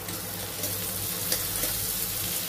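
Chopped onions with a little salt sizzle and fry in a pan while being stirred, a steady close hiss with faint scraping.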